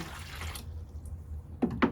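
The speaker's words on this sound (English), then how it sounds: "once it's diluted, the water comes out of the spigot." Two quick water drips land close together near the end, falling from the spigot of a worm tower used for red wiggler composting. A low background hum fills the quiet before them.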